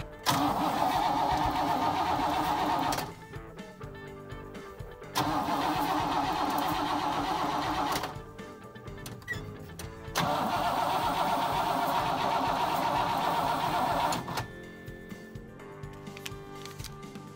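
A 1963 Pontiac Bonneville, long parked and fitted with a new battery, cranks in three loud, close bursts of several seconds each, separated by quieter pauses.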